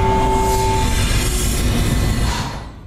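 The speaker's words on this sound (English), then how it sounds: "That Isaac travels between decks using a tram is of course just perfect." A tram trundling along its tracks aboard the USG Ishimura mining ship in the video game Dead Space, a loud rolling rumble with a faint tonal whine that fades toward the end.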